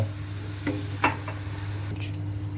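Water being stirred into a muhlama mixture in a pan, soft sizzling with a few scraping strokes of a spoon over a low steady hum.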